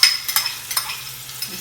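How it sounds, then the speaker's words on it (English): Onions sauteing in a pan for Haitian red beans and rice, giving a steady close sizzle with a low hum beneath and a few soft stirring scrapes, no voices. "And then I'm gonna add my onions. We just wanna saute this"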